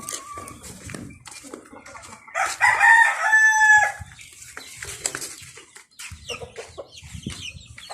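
Bulik chickens on a backyard farm, with a rooster crowing loudly at close range in one long call, and scattered clucks and soft fowl noises before and after it.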